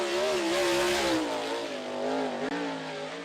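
A USAC sprint car engine drones loudly on the track at Ocala, with a steady, slightly wavering pitch as the car holds speed, close and dominant with no talk over it.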